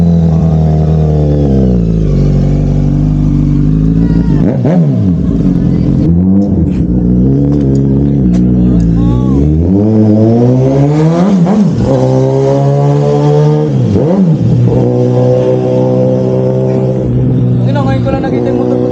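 A Kawasaki ZX-6R sport motorcycle roars loudly and continuously, its engine pitch climbing and dropping through repeated rises as it accelerates and shifts, dominating the scene at close range.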